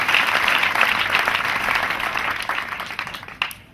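An audience claps at a Christian union handover ceremony at Jinja School of Nursing and Midwifery, a dense, loud burst of applause that holds steady and then thins out and fades with a few scattered final claps.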